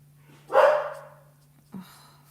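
A dog gives one sharp, close bark followed by a shorter, softer yip about a second later, against a quiet room with a low steady hum.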